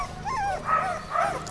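Newborn puppies, barely two weeks old with eyes just opened, whimpering and yipping close by: a few thin, rising and falling whines run into one another with no talk.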